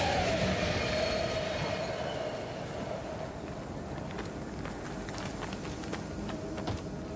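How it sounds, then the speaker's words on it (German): A subway train rumbles past through an East German underground tunnel in Call of Duty: Black Ops Cold War. The steady rolling roar is loudest at first, then eases into a softer rattle with faint clicks and no voices. "Wir können den Zug nutzen, um vorbeizuschleichen."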